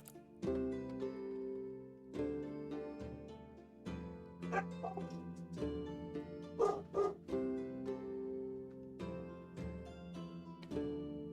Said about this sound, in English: I think that's actually my dog barking, or my grandmother's dog, our dog.